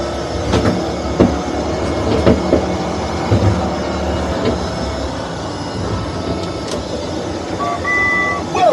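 A train rumbles past with rhythmic clacking of wheels on rails and occasional metallic squeals, loud and close.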